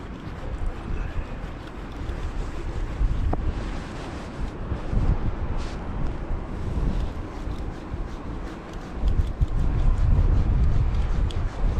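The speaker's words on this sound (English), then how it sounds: "it's pretty windy and cold" Strong wind buffets the microphone on a coastline after a storm, with surf and waves rolling in beneath a continuous rushing roar that swells and eases over about twelve seconds.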